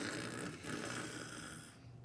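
A human voice imitates the snoring of a person fast asleep in an airplane seat: one drawn-out, nasal, rumbling breath that fades near the end.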